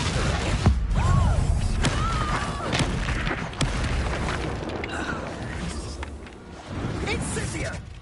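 Explosive spell blasts from the Hogwarts Legacy video game burst repeatedly over dense game sound, with several sharp booms and crackling impacts spread across the clip while voices talk over the action.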